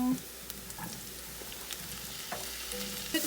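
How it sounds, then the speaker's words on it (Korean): Vegetables for ratatouille sizzling and frying in olive oil in a pan, a steady close crackle with occasional stirring clatter and a few brief louder pops near the end. "저 이제 야채를 넣겠습니다"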